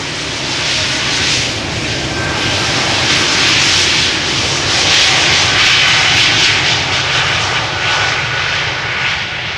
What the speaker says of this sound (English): E2 Embraer 195 off to Dublin